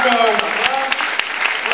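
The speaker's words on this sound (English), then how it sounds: "Ladies and gentlemen, big round of applause." Brief burst of audience applause at a panel event, dense clapping with a few sharper claps standing out, loud and close for under two seconds.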